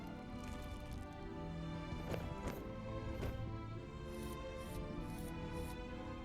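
Horse hooves clip-clopping in the fantasy video game The Dwarves, a steady run of soft hoof strikes over a musical background, moderately close, with no one speaking.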